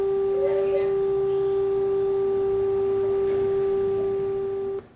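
A pure sine tone at G4, about 392 hertz, holds steady and fairly loud for nearly five seconds and then cuts off abruptly, with faint background sounds beneath it.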